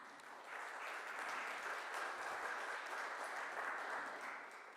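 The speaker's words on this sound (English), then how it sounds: "So I really like to give each one of you all a good round of applause." A press-conference audience in Mumbai applauds the newly appointed bicycle mayors, a steady, even round of clapping that swells in, holds for several seconds, then tapers.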